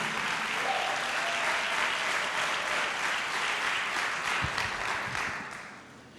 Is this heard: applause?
yes